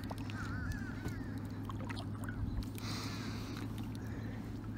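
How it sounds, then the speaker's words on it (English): A motor boat out on a lake, heard from a kayak: a faint, steady low engine drone hums under quiet outdoor ambience, with a few soft bird-like calls. "I hear something that doesn't sound too friendly. It sounds like a boat."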